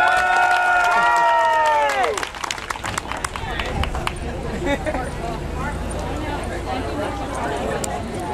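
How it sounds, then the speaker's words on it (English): After a voice announces, an audience at a dog contest during an outdoor art fair breaks into clapping and cheering, a dense crowd sound that carries on steadily to the end. "Your applause for Bingo."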